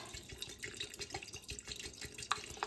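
Bragg's apple cider vinegar is poured over fire cider ingredients in a jar, a soft trickling and splashing liquid sound with small drips, quiet and close, with no speech.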